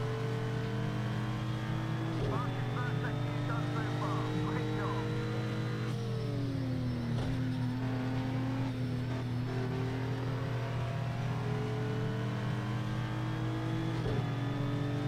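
Race cars including an Alpine lapping in Project Cars 2, a steady engine drone with shifting whines and gear changes as the car accelerates and brakes, a commentator talking now and then over the noise.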